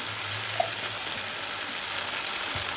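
Freshly ground masala paste with turmeric fries in oil for a chicken curry, a soft, even hiss running steadily without pause.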